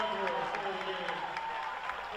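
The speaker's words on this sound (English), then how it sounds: "And Cross getting her applause as she comes off." Crowd at a girls' basketball game between QND and Springfield applauding a sophomore player leaving the court, a soft distant wash of clapping and crowd noise beneath a commentator's voice.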